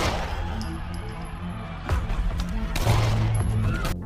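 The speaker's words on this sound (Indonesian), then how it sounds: "Lalu tiba-tiba Roy menembak Rawbone." A gunshot from the film Knuckle rings out amid a dense, continuous movie soundtrack of music and effects, with sharp impacts near two and three seconds rather than standing alone.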